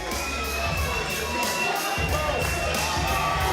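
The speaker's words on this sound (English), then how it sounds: "Listen to that crowd. Listen to the energy here." Crowd roaring and cheering at a fight night event, a loud sustained wash of voices filling an indoor venue, with rhythmic bursts of shouting swelling over the steady din.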